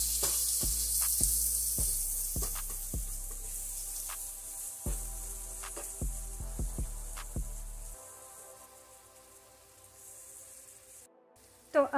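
Paneer bhurji masala with frozen peas sizzles in a pan as it is stirred, a steady frying hiss punctuated by repeated utensil scrapes and knocks, easing toward the end.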